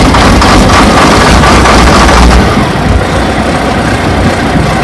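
Old farm tractor engine runs at a loud, heavy idle with deep low rumble and some wind buffeting on the microphone, steady throughout with a slight drop in level midway.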